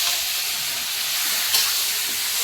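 Chicken meat hitting a pan of lightly fried onion and green chilli gives off a loud, steady sizzle and hiss, with one brief sharper crackle midway.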